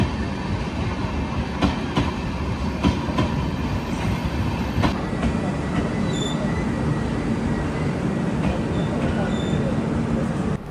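A train pulls into Jetalsar railway station in Gujarat with a steady, loud rumble of rolling cars, some wheel clatter and brief high squeals, continuous throughout.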